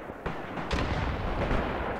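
Grenade blast in the World War II tactics game Graviteam Tactics, a broad booming burst around the three-quarter-second mark amid a dense, continuous rumble of distant battlefield fire, with further thuds swelling later.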